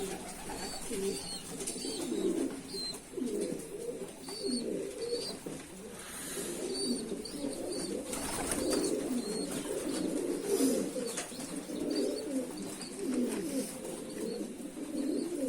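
Pigeons coo continuously in a loft, soft layered calls with occasional higher chirps over a quiet background, fairly close and without talk.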